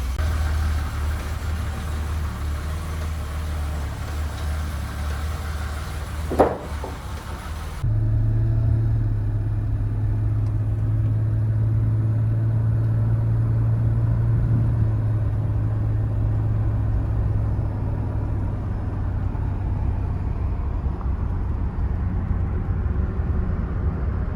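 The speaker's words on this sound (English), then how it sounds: "the old Bimmer drives perfectly smooth like an elegant Bimmer" A 1983 BMW 7-Series E23 drives on a test drive, a steady low engine rumble with a brief sharp transient early on, then a continuous smooth drone of the running car throughout.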